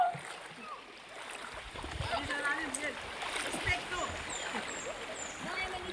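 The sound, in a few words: water of Lipit River flowing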